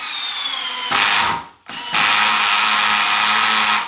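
A DeWalt Xtreme 12V brushless drill drives a screw at maximum speed, its motor whining loudly and steadily with a brief dip and cut-off partway through before spinning up again.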